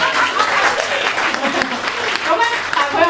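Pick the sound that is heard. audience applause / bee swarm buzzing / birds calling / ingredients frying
audience applause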